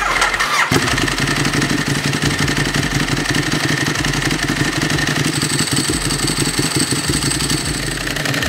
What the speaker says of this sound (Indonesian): mendengar motor dengan suara kopling kering seperti ini